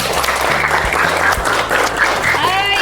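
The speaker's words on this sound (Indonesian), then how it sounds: "Tepuk tangan dulu untuk kelas ini." A classroom of students in an Indonesian school claps for their class after a practical design lesson, loud continuous clapping close by with some background voices underneath.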